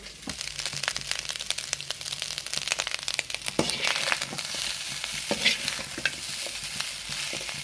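Fried chicken stirred through Coimbatore gilma biryani in a hot pan, with a steady sizzle under continuous scraping, tossing and crunchy stirring, close and busy throughout.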